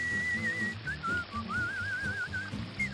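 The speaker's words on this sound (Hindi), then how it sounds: "ससुरा सीटी बजा रहा है" A cartoon character whistles a wavering, warbling tune for about three seconds, sliding up and down in pitch over a background music bed in a Hindi animated comedy show.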